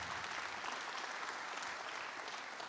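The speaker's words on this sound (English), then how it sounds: "So round of applause." An auditorium audience claps for scholarship donors at a tech conference wrap-up ceremony, a dense, even wash of applause lasting a few seconds.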